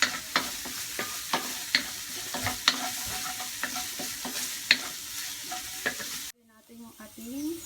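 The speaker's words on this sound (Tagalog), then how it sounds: "Iniluluto natin yung ating sesame oil sa ginger." Chicken fries with ginger in sesame oil in a pan, giving a steady close sizzle broken by repeated stirring clatters. The sizzle drops away near the end, leaving a few faint sounds, with no talking.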